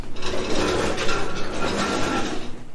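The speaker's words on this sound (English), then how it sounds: "It's just a short socket with a 1/2-inch ratchet." A 1/2-inch ratchet with a short 27mm socket turns the front balancer of an AMG Mercedes-Benz engine, giving a close, continuous rasping, clicking mechanical grind with no talking.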